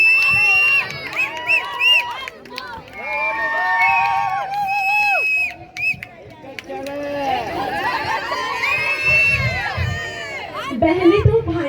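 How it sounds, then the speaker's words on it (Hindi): Guests at a sangeet wedding ceremony cheer and shout to welcome a couple amid loud crowd noise, with music and voices layered throughout and bursts of excitement rising near the end. "चलिए इस खूबसूरत सी जोड़ी का जोरदार तालियों के साथ स्वागत कीजिए।"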